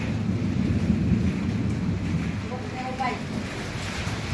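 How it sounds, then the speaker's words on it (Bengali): A heavy morning rainstorm with thunder and strong wind makes a dense, steady roar with a low rumbling undertone, loud and unbroken for the whole stretch, while faint voices sound briefly. "দেখো প্রচন্ড পরিমাণ তুফান বৃষ্টি হইতেছে আজকে"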